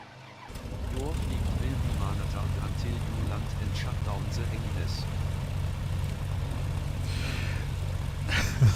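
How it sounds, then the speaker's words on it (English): The engine of a BN2 Islander aircraft in Microsoft Flight Simulator starts after a short quiet moment, then settles into a loud, steady propeller drone. A voice talks over it. "so we can just go ahead and get the engine started."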